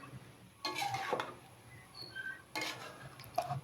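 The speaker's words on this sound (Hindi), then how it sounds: "तो लें जी अब इसको भी अच्छी तरह मिक्स करेंगे ताकि सारी जगह मसाला जो है ना गोभी में आ जाए।" A spoon stirs aloo gobi, cauliflower and potato coated in spices, in a kadai, giving a few scraping, clinking bursts of metal against the pan with quiet pauses between, no voices.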